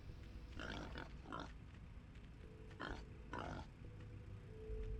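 A pig grunts in the video game Wasteland 3, in several short, close grunts spaced across the stretch over a low background hum.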